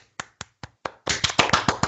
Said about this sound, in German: Einmal Applaus